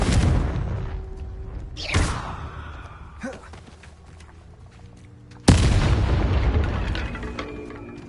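Confringo blasting spells in Hogwarts Legacy burst into heavy booming explosions, one dense blast at the start, a sharp crack near two seconds, then a sudden loud detonation that rumbles on with crackling debris to the end.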